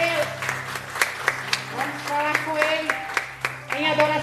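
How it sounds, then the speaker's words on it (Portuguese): Church congregation applauding during a prophetic night worship service, a steady wash of clapping with sharper individual claps standing out, mixed with voices and sustained musical tones underneath. "Você pode aplaudir o Senhor?"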